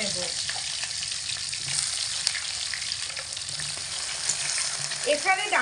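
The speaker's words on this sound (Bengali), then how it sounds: "একই তেলের মধ্যে এবার দিয়ে দেব ডাটাগুলোকেও একই রকম ভাবেই ভেজে নেব।" Drumstick stems (sajna data) frying in oil at medium heat for a vegetarian potato and pumpkin dish, a steady dense sizzle throughout with a faint clink of stirring near the end.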